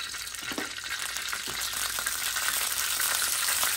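Onions hit hot oil in a pan for a shrimp and snow pea sauté, a soft, constant sizzle that builds slightly over a few seconds, with occasional light stirring taps.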